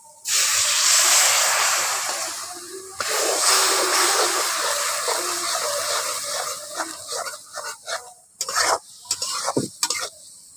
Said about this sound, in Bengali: এর মধ্যে অল্প করে আবার একটু জল দিয়ে দিচ্ছি